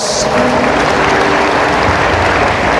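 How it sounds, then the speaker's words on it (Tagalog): A church congregation claps together in a loud, continuous wash of applause, close and dense, with a low hum of voices mixed in. "Palakpakan natin ang Diyos."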